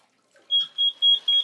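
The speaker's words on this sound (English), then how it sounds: "Sprinkler head goes off." An electronic alarm on an electronically monitored fire sprinkler system sounds as a sprinkler head discharges, a series of four clear, close high beeps in quick, even succession after a moment of quiet; no water is audible.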